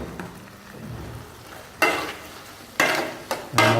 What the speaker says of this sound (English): Make a quick stir.